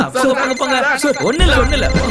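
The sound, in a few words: mobile phone ringing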